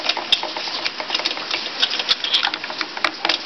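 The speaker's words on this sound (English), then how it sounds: "So I'll start undoing these bolts here." Rapid, close metallic clicking and ticking, like a ratchet, comes from undoing bolts on the carburetor of a Victa V40 lawn mower. It is steady and fairly loud, with no voices.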